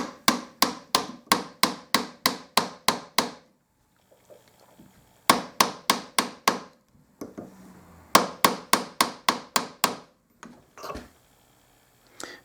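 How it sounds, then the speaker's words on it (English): A brass mouthpiece is tapped with a small hammer to work out dents, sharp metallic taps in quick even bursts of about eight to ten strikes, separated by short pauses with handling noise, close and alone. "I'm going to continue to tap on that."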